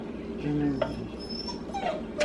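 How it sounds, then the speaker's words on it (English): Dogs whimper and whine in high, wavering cries, moderately loud and a little distant, against a quiet room background with faint voice-like sounds. "Sorry about my dogs, you guys."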